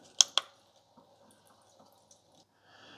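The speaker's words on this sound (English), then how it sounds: "Water's coming out of both tubes." Water draining from both tubes of a GE Profile Opal 2.0 nugget ice maker during a bleach-water cleaning, with two sharp close drips early on followed by faint, scattered trickling and dripping.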